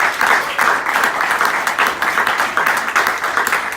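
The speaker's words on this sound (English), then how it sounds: "give a big round of applause to our finalists" Audience applause for finalists at a Cisco startup pitch session in Australia, a steady burst of many hands clapping in a room, loud and close, with no voices over it.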